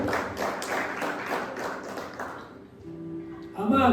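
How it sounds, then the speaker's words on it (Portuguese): A church congregation applauding loudly for a few seconds as rhythmic clapping fills the room, then fading as a voice begins speaking over it. "Se você crê, aplauda Ele bem forte"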